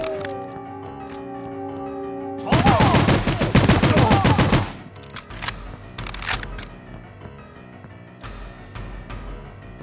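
Gunfire from The World Is Not Enough on the Nintendo 64, a dense two-second burst of rapid shots rising over game music and ambience, followed by a few scattered sharper bangs.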